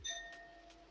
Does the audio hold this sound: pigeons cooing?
no